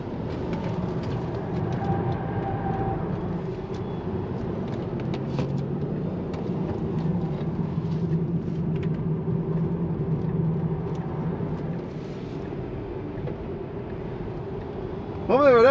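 A Tesla running off a racing circuit into a gravel trap, a steady low rumble of tyres churning through loose stones that holds for several seconds and then eases, close inside the car with faint background noise.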